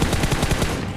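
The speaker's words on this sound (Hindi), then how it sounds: "मैं मतलब फिर से फायरिंग की साउंड आई थी।" Gunfire in a battle royale video game, a fast automatic burst of about six evenly spaced shots in one second, loud and close, then cutting off.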